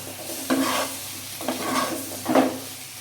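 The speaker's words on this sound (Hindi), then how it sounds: "तो इसमें अब हम डाल देंगे कद्दू और इसको डाल के ऐसे मिला देंगे।" Pumpkin pieces sizzle in a hot pan as a utensil stirs them in three rhythmic scraping sweeps, close up with a steady frying hiss underneath.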